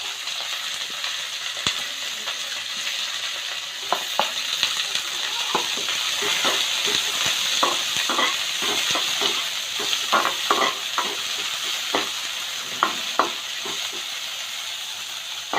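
Crushed garlic and chopped onion sauté in a pan under a steady sizzle, with repeated scraping and tapping of a stirring spoon throughout.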